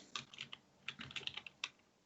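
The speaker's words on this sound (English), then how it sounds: "I'm just typing up my notes." Rapid, quiet clicking of a computer keyboard as notes are typed during a whisky tasting podcast, with irregular bursts of keystrokes close by and no talk.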